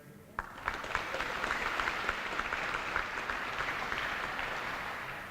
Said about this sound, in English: let's give a round of applause for the Color Guard